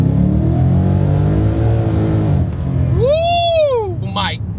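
A supercharged 10-speed Mustang GT pulls hard under acceleration, its loud engine tone climbing steadily before a quick gear change, then rising again briefly near the end.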